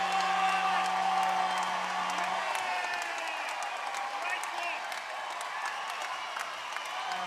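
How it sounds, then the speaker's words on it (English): A basketball crowd at a QBL men's grand final game roars and cheers after a blocked shot, a broad sustained wash of voices and whoops with scattered claps, a commentator's voice running over it. "Listen to the crowd, Dave."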